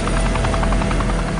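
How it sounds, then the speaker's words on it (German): A Chinook helicopter drops water over the damaged Fukushima nuclear plant, heard as a loud, steady rotor roar with a fast rhythmic chop, close and alone, with no voices. "Chinook-Hubschrauber sollen es aus der Luft abwerfen."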